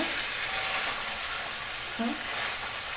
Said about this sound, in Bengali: এই দেখো কত সুন্দর করে কষাচ্ছি দেখো কত সুন্দর করে কষানো হচ্ছে